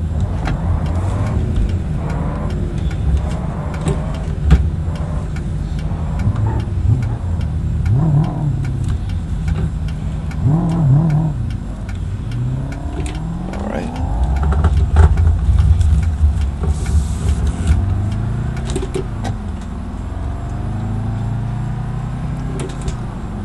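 Car engine braking downhill in low gear in BeamNG, a loud continuous engine drone with shifting revs and occasional whining rises, heard close with no talking.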